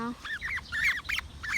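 Several chickens call in short, rising squawks and clucks, close and fairly loud, in uneven bursts across a quiet yard.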